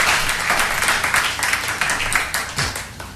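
A church congregation applauding and clapping together in a steady, dense burst of rhythmic hand claps, loud and close, continuing throughout with no talk over it.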